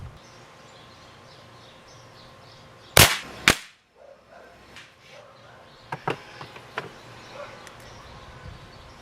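A single sharp crack from a Beeman Raider .177 caliber air rifle fired outdoors at 25 yards, followed by a second smaller report and then quiet scattered clicks and faint bird sounds.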